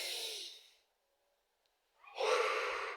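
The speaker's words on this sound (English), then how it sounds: "It's by practicing deep breathing. Inhaling with your nose" A close, quiet exhale tapers into near silence for over a second, then a deep nasal inhale rises and draws in air steadily. Both are intimate breath sounds during a deep-breathing exercise, with no speech.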